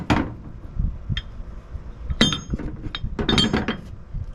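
Metal shackles and rope snatch blocks from an off-road recovery kit clink and knock together in a few scattered, sharp metallic hits with handling noise between them, close by and without speech.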